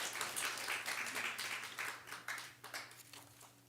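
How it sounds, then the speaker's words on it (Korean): A church congregation applauds during a Sunday worship service after a prayer, a dense, fairly distant wash of clapping that carries steadily through the whole stretch before thinning slightly at the end. "박수 부탁드리겠습니다"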